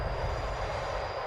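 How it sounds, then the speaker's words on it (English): A train in the video game Fallout New Vegas about to depart, giving a steady low rumble with a faint high whine, continuous and fairly loud over just over a second with no talking. "The train is about to depart."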